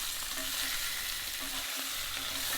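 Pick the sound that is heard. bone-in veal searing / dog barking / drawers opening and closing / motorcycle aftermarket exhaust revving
bone-in veal searing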